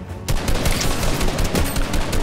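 Rapid automatic gunfire from the Fortnite video game crackles in dense bursts after a brief quiet start, loud and continuous with no talking over it.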